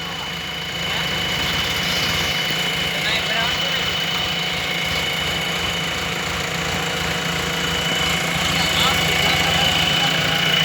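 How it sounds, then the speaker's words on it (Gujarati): A tractor engine runs steadily at idle with a low, knocking mechanical rumble, near and constant throughout at night, with voices talking over it. "ડ્રાઈવર તો હલવાડી દીધું ટ્રેક્ટર."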